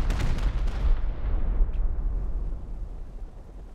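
Heavy rocket blasts in the survival game Rust, a loud booming burst at the start followed by a long rumbling decay that slowly fades, with no talking.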